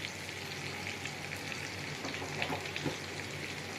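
Turmeric, chili and cumin powder fry with tangra fish in a pan, giving a steady, close, even sizzle that holds level throughout with a couple of slightly louder crackles and no talking.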